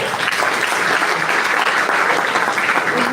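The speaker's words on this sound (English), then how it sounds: "Please give yourself a round of applause." An audience at a stakeholders' engagement event for hospitality and tourism in Edo State claps in sustained, dense applause, loud and even throughout with no break.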